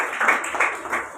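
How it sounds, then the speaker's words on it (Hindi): Audience clapping to welcome guests at a gathering, a short burst of dense applause with several pulses of hand claps at close range. "आप और हम सब तालियां बजाकर इसमें शामिल होंगे।"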